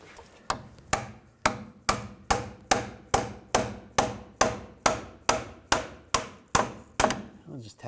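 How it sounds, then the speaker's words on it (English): A hammer taps a rusted 4WD actuator under a 2014–2018 GMC Sierra 1500 5.3L V8, about fifteen evenly spaced metallic knocks at a steady rhythm, close and clear with no talk over them. "I'm just going to give it a tap with a hammer."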